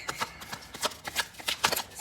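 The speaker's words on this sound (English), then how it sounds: "Can you please allow me to shuffle?" Tarot cards being shuffled by hand up close, a rapid run of crisp riffling bursts and light slaps repeating in an uneven rhythm with no talking over them.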